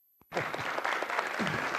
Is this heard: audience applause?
yes